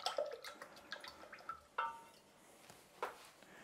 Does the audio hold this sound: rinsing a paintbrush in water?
yes